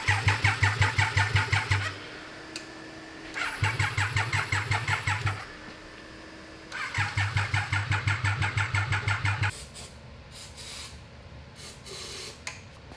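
A Triumph 955cc engine fitted to a go kart cranks over in three separate bursts of rapid, rhythmic starter chugging, loud and close, with pauses between attempts and no start.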